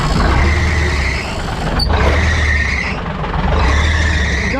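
A truck's cammed Cummins diesel engine runs loud and close, a steady deep rumble with a slightly uneven, lumpy pulse, heard alone without talk.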